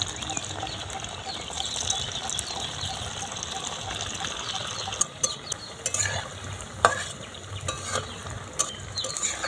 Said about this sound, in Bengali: তেল গরম হয়ে গেছে, তেলের মধ্যে এক এক করে দিয়ে দেবো।